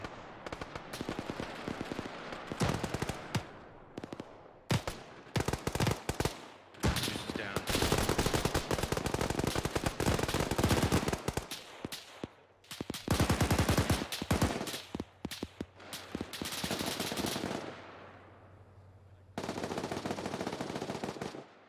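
Medium machine gun fire in a combat video game pours out in long, loud sustained bursts separated by short pauses, with scattered single shots and a low background rumble.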